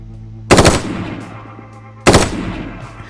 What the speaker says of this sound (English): I managed to bang off an automatic, some automatic fire there without going completely bonkers